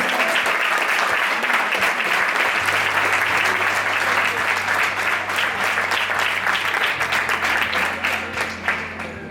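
A crowd at a women's all-star football match on the Catro Ventos pitch in Lugo claps in sustained, dense applause that thins out slightly toward the end, with a low hum underneath.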